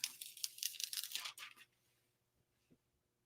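Backing being peeled off a foil craft sheet, a close, crisp run of tearing and crinkling for about a second and a half, followed by near silence and one faint knock.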